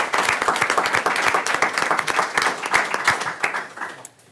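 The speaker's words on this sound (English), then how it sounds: "And let's give them all another round of applause" An audience at a county school board meeting breaks into sustained applause, a thick steady wash of claps that holds loud and even for about four seconds before quickly tapering off to quiet.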